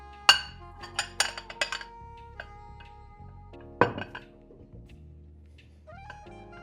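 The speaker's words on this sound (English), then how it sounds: "this is easily done by packing the rice into a bowl and then flipping it over onto a plate" Fried rice for a Japanese dish being packed into a bowl and turned out onto a plate, heard as close, sharp clinks and knocks of ceramic, a few spaced hits with quieter scraping between and no voices.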